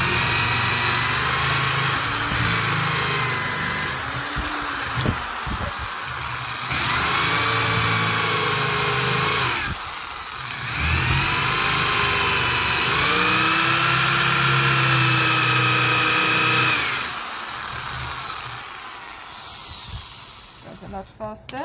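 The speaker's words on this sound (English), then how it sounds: "And now I'm just going to drill some things out of here." A power drill whines steadily in long bursts drilling into driftwood, pausing briefly between runs, with a low rumbling hum underneath and occasional knocks and scrapes.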